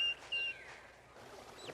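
A straggling wild turkey poult calls again with a couple of faint, thin whistled notes, then softer drooping peeps trailing off in a quiet, distant outdoor setting.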